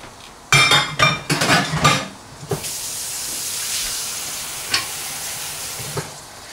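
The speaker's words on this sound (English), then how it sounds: "What you want, you can actually hear it. We're gonna simmer it so it has a nice brown color" Pork chops simmer in a pan with a steady hiss, opening with a few clattering knocks of a utensil against the pan before the sizzle settles into a continuous, fairly loud wash with occasional faint ticks.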